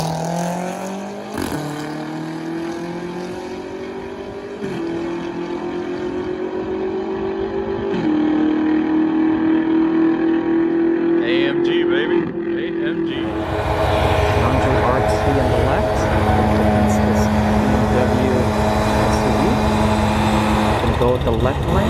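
A 750 HP BMW X6M launches down a drag strip, its engine climbing through several gears in stepped rising tones before the sound swells into a louder, rougher roar at full throttle.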